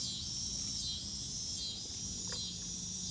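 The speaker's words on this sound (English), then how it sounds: "Oh, these bugs, I can't believe it. You can hear the bugs." Dense, steady insect chirping, likely crickets, fills the air as a continuous high-pitched trill outdoors, with a low rumble underneath and no talking.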